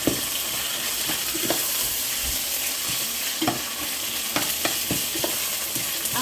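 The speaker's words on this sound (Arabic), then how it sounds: "هلا راح احط الرز وكمان ارجع امره شوي، حمصه مع" Rice and vermicelli stir-fried in vegetable oil: a steady, close sizzle with repeated scraping and clacking of a utensil against the pan, continuous with no talking.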